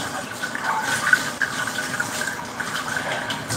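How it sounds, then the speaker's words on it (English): Water runs steadily from a kitchen tap while meat-prep items are rinsed down, a continuous splashing gush with small irregular bumps of water hitting surfaces, close and fairly loud. "Just rinse everything down."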